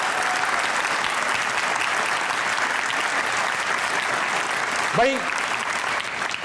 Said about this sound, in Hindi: एक बार जोर से तालियां बजाइएगा